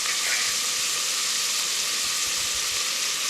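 Sliced onions sautéing with a pinch of salt in a pan for potato rice give off a steady, close sizzle. The hissing fry holds evenly throughout with no talking.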